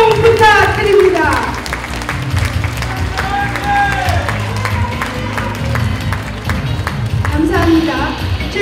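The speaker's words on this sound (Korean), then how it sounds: "뜨거운 성원의 박수 다시 한번 부탁드립니다." Audience applause and cheering at a Democratic Party national delegates' convention and joint campaign rally in Jeonbuk, heard as a loud, sustained crowd wash with speech and amplified voices mixed in throughout.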